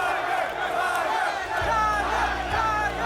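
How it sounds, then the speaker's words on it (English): A packed golf crowd around the 18th green roars and screams for Tiger Woods, a dense, loud wall of shouting with rhythmic chant-like swells throughout. "the 18th green just exploded. People are screaming, Tiger, Tiger, Tiger."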